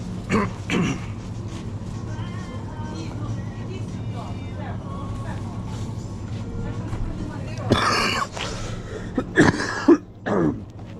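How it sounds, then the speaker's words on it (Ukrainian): A person coughs and clears their throat in several harsh bursts, close up, over a steady low rumble of background noise. "Чуєте, як прокашлюється?"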